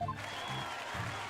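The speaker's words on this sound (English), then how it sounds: "Everybody's cheering." Applause and cheering from a gallery crowd in the Apollo Justice: Ace Attorney video game, a short burst of clapping at moderate level, heard alone without talk.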